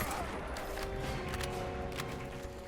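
Rapid gunfire in a video game as enemies are shot through the windows of a van, a steady busy crackle of shots under game noise, fairly quiet overall.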